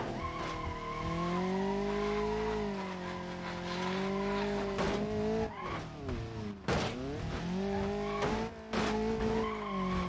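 In BeamNG.drive, a damaged car scrapes its underside along the ground on an endurance circuit, a sustained grinding drag mixed with engine tone and sharp scraping bursts throughout.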